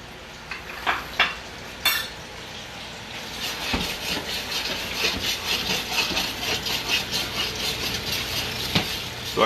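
Salmon sears in a skillet with butter and olive oil: a rough, steady crackling sizzle with scraping and rubbing from the pan, moderately quiet, and no talk over it.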